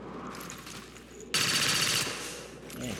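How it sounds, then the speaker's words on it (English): A modded XCOM 2 soldier opens fire, a sudden loud, close burst of automatic shots lasting under a second, set against quiet game ambience before and after. "I wanted him to do Overwatch, not actually shoot."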